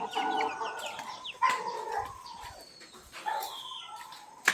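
A Sweater-breed gamefowl rooster crows and clucks in a yard. The calls are close and clear, coming in a few separate bursts with short pauses between them, and no one talks over them.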